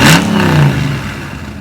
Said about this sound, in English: It's a lot louder when you really get on it.